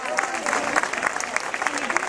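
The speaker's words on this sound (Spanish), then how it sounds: "¡Venga, ese aplauso para estos jabatos!" At a 10K race awards ceremony, a crowd claps for the category winners in a short burst of steady applause while a voice carries on over it.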